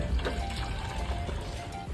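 Tap water running steadily in a hostel, filling containers, a continuous close rushing splash with a faint voice underneath.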